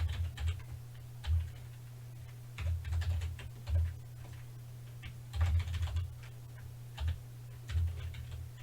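Keys on a computer keyboard are typed in short irregular bursts of clicks while entering Python code for a micro:bit classroom session, fairly close, over a steady low electrical hum with no talking.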